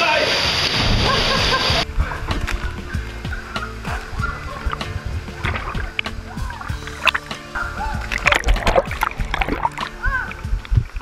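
Water splashes and sloshes as a person lands from a water slide, with churning water and voices nearby, including children, over the busy background.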